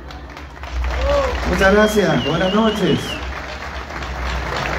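At the 112th-anniversary celebration of La Banda, an audience claps for someone in a broad, sustained burst that swells and then fades. Someone speaks briefly over the applause.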